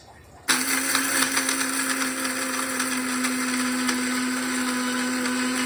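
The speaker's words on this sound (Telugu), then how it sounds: "మిక్సీ చేసేద్దాం." A mixer grinder starts abruptly with a loud whirring drone and runs steadily, blending a thick peanut chutney at full speed.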